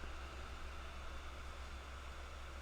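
A white noise test signal generated in LabVIEW plays as a faint, steady, even hiss over a low electrical hum, unchanging throughout with no voices.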